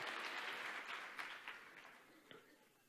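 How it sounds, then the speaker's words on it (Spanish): Church congregation clapping in praise during a worship service, a burst of applause that starts strong and gradually fades away with a few scattered claps at the end. "Damos un aplauso al Señor"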